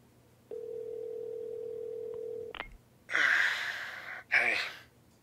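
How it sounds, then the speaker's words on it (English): A telephone dial tone hums steadily for about two seconds in The Walking Dead game, Season 3, A New Frontier. It cuts off with a click, then a character gives breathy gasps and sighs. "We got a phone working."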